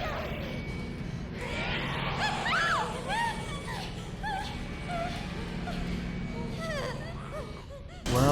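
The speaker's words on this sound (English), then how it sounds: "her screams scaring Emily" A girl screams in Resident Evil Requiem, with wailing, rising and falling shrieks and gasps over a steady low hum, moderately loud and close, ending in a sudden heavy thud.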